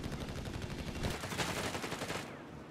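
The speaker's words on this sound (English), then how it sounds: "Pioneers doing decent damage to the Jeep, even at range with those SMGs." Dense, continuous SMG fire from Pioneers in Company of Heroes 3, a fast rattling stream of shots at steady loudness that thins out near the end.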